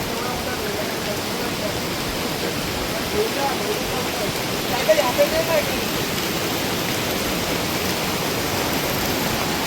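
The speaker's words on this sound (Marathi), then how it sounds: "पाऊस बघा यार पाणी" Heavy monsoon rain in the Konkan region of India, a steady dense hiss of rainfall and rushing water that stays loud and even throughout, with a brief murmur of voices in the middle.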